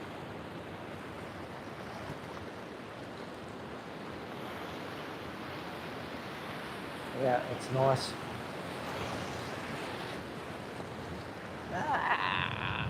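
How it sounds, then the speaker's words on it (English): Ocean waves rolling in with the rising tide along a rocky shore, a steady broad wash of surf with wind noise throughout, a person briefly speaking partway through. "Here comes a wave, that's the tide pushing in these waves."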